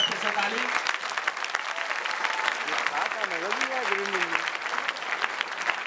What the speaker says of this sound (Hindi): पेशकश के लिए एक बार फिर से ताली